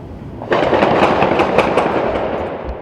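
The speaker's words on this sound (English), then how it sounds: "The echoing sound of gunfire pierces the night air." A sudden distant gunshot breaks out at night in Louisville, then a long rolling, echoing rumble with scattered sharp cracks, loud and with no voices.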